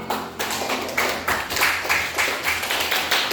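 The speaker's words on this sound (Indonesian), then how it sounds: "Terima kasih kepada kelompok 3 yang telah memaparkan hasil kerjanya. Maka di sini kita berikan aplaus." Classroom applause for a student group finishing its presentation: quick, steady clapping from a group of students, bright and fairly close, with a regular rhythm of hand claps and no talking.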